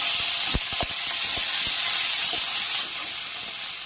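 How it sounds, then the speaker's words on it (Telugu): Curry leaves drop into a hot tempering of urad dal, chana dal, mustard seeds and cumin, giving a steady loud sizzle and hiss with several sharp crackles and pops near the start. "మినపప్పు, శనగపప్పు, ఆవాలు, జీలకర్ర వేగిపోయిన తర్వాత కరివేపాకు వేసేస్తున్నాం"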